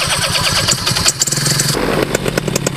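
A model airplane's propeller engine starts, with a sputtering, clattering catch that rises into a loud, buzzing run nearby.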